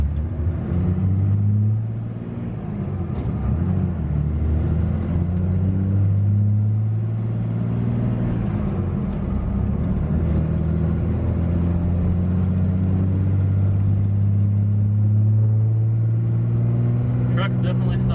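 A pickup truck fitted with an NV5600 manual transmission and a dual disc clutch, stock on 37-inch tires, drives through its gears with a steady, loud engine rumble and rising and falling tones heard from inside the cab.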